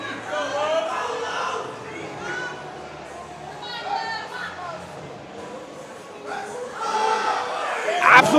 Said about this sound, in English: The crowd's going wild for Carlitos.